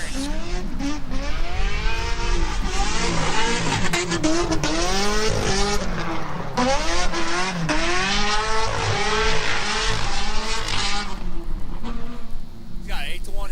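Drift cars in a competition battle, engines wailing through repeated rising and falling revs with tire squeal and skidding, loud and continuous, while a commentator talks over the top.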